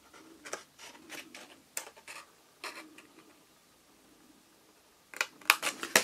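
Scissors snip through paper during scrapbooking, a series of short crisp cuts in quick bursts with pauses between, close and fairly quiet, ending in a rapid run of snips.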